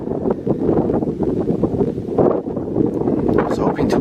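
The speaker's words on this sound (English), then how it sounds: "hear the breeze, the grassland" Strong breeze sweeping across open grassland on the Carrizo Plain, a steady loud rush of wind buffeting the microphone with gusting surges and no other clear sounds.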